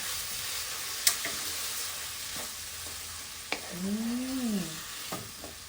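Salted fish fries in a pan, a soft steady sizzle with a few sharp clicks and a faint rising-falling whistle-like tone in the middle; no talking.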